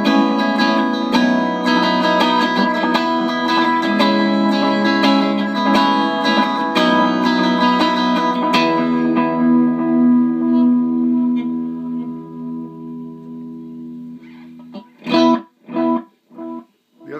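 A DIY delay pedal sustains a guitar tone whose echo repeats start clean and turn grungy and distorted, fading out before a few loud choppy distorted bursts close the passage.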